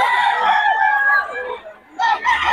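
A rooster crows nearby, a long strained call followed by a shorter second burst after a brief pause.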